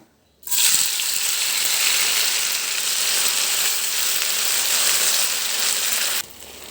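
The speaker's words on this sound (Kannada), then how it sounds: "ಅದೇ ನೀಟಾಗಿ ತುಪ್ಪದಲ್ಲಿ ಹುರ್ಕೋಬೇಕು ಸಬ್ಬಕ್ಕಿನ" Soaked sago roasting in ghee gives a steady, bright sizzle that starts abruptly, holds evenly for several seconds, then cuts off, close and fairly loud, with no talking.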